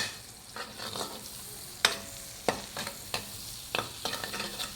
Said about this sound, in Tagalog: Igisa na namin yung sibuyas bawang.